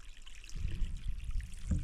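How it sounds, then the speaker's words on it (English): Spring water trickles out at an old, centuries-old reservoir, a soft continuous burble and splash heard close up against faint outdoor background. "crystal clear water coming out here"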